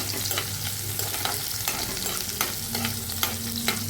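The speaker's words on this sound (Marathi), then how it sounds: "कांदा टाकून त्यानंतर त्या कांद्याला व्यवस्थित परतून घ्यायचं आहे." Chopped onion sautéing in oil in a pan while being stirred, for a bitter gourd (karela) bhaji: a steady close sizzle with repeated scraping strokes of a spoon, loud and continuous, with no talking.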